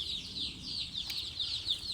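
Several Kabinburi white-tailed native chickens cluck and chirp repeatedly nearby, a busy overlapping chatter of fowl with no talking.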